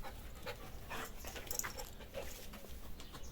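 A dog pants and whimpers softly nearby, quick breathy huffs with faint high whines, fairly quiet and close.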